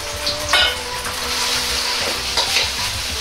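Beaten eggs seasoned with salt and pepper hit a tablespoon of hot oil in a pot, giving a steady close sizzle with a few light utensil clinks and scrapes throughout, no voices.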